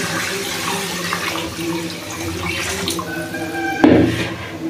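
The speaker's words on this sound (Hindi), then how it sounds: "अब इसमें 3 लीटर पानी ऐड कर दूंगी।" Water poured into a cooking pot of mutton browned with a yogurt and onion paste, three litres added in a steady rushing stream with a sharper splash near the end.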